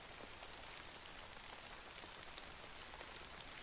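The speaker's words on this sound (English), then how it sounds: "wait for the rain to pass" Rain in the DayZ video game, a steady, soft patter of drops on surfaces, even and unbroken throughout, with no voices.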